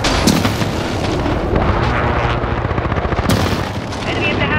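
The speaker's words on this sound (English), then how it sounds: "Be advised, friendly precision airstrike inbound." Friendly precision airstrike explosions in a Die Hard video game, a dense, continuous barrage of booms and rapid gunfire with a couple of sharper blasts, loud and close, with a voice speaking amid the din.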